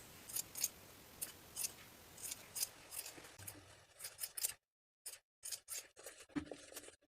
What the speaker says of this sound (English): Trim the seams and the top corners